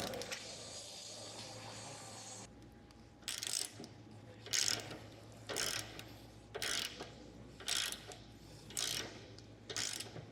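A ratchet wrench adjusting the tension on a Weigh Safe True Tow weight distribution hitch on a trailer, clicking in six or seven short, evenly spaced bursts after a quieter mechanical stretch, close and clear with no voices.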